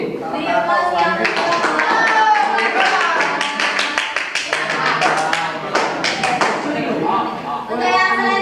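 Classroom applause for a group presentation, a sustained burst of clapping from many hands filling the room for several seconds, with children's voices mixed in underneath.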